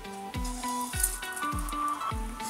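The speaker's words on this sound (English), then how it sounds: "You should be able to hear that now. The mustard seeds have started to pop." Mustard seeds fry in hot oil for an Indian rajma curry, giving a soft sizzle with a few sharp pops and a repeating low thudding, all fairly quiet and with no talk.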